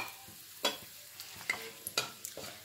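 A spoon scrapes and stirs garam masala and two bay leaves in hot oil left from frying chicken, giving a few sharp, separate scraping strokes with brief sizzles between them, close and fairly quiet.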